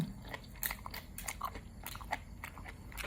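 Crispy fried wonton is bitten and chewed close up, with several sharp crunches in an uneven rhythm followed by quieter chewing.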